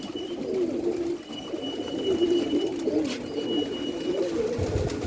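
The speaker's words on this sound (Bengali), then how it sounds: "সবগুলা খোপে কবুতর আছে" Pigeons cooing steadily and fairly close from nesting boxes, low repeated throaty calls overlapping through the whole stretch with no voices.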